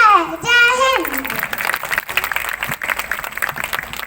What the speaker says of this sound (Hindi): तालियों से इनका स्वागत किए